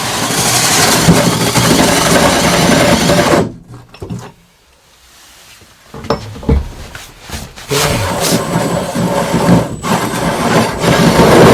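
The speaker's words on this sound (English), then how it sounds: "I just popped a pilot drill right up through the centre" A power drill whirs loudly in a sustained burst, cuts out for a few seconds of quiet with small knocks, then drills again steadily as a pilot bit bores through a narrowboat wall.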